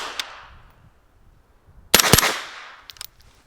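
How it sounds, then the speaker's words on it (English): Snappy trigger reset on a CAR-15 rifle lower fitted with a BRT SD upper: sharp, loud metallic snaps and clicks in a quick burst, followed by a couple of fainter clicks, with no talking. "that trigger reset's pretty dang snappy"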